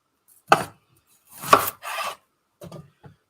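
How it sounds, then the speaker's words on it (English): A knife cuts an onion into wedges on a stove top. A few close, crisp chops and scraping strokes come in separate bursts with quiet gaps between them. "It's kind of weird chopping up things on my stove top."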